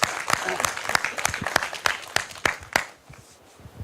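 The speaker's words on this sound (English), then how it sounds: "Round of applause, round of applause." A small group claps in a short burst of applause for a few seconds, sharp close hand claps that thin out and fade at the end.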